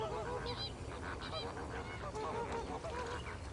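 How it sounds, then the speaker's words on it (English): A huge flock of lesser flamingos calls continuously, a dense goose-like honking and chattering chorus that fills the air at a steady, moderate level with no pauses. "1 million lesser flamingos."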